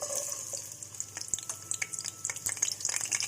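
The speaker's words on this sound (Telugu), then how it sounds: "గోల్డెన్ కలర్ వచ్చేంత వరకు ఆయిల్లో ఆనియన్స్ ఫ్రై చేసుకోవాలి" Onions fry in hot oil in a kadai for an arbi masala curry, giving a soft, uneven sizzle with scattered crackles and small pops. The sound is fairly faint and close, with no voices.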